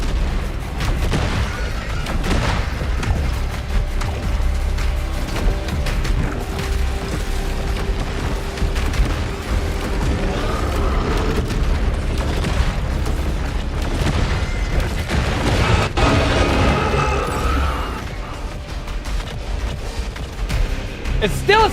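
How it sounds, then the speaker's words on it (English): Explosions keep going off in the video game Saros, a sustained barrage of booms and crackling bursts mixed with mechanical game effects, loud and close, while a player talks excitedly over the din. "It's still exploding!"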